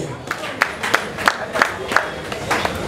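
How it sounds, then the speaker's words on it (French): Audience at a ceremony for the first edition of Beledu Monde Production claps in steady unison, with sharp claps about three per second over a murmuring crowd. "Applaudissez encore pour Belelou Monde."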